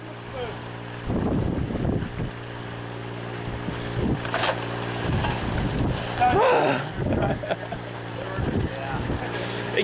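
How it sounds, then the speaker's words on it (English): Gusty wind buffeting a microphone outdoors at a gold-prospecting site with a highbanker and tailings pond, a loud steady rumble throughout with people talking over it. "Oh, the wind!"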